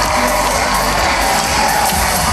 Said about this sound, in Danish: Og der er stor jubel i den danske kommentatorboks